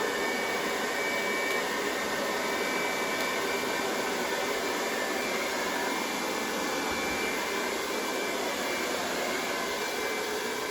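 A heat gun blowing over an acrylic paint pour gives a steady, loud, close hiss of rushing air that runs unbroken from start to finish, with no talking.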